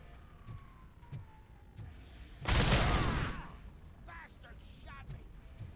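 A loud burst of gunfire in Robocop: Rogue City erupts in the middle of the clip, roughly a second long, against a noisy game background with faint siren-like tones.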